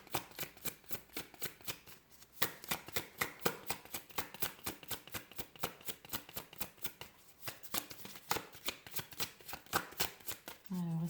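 Repeated rapid riffles of oracle cards being shuffled by hand, crisp close flicking bursts in a steady rhythm with a short pause midway, ending as a voice begins to speak.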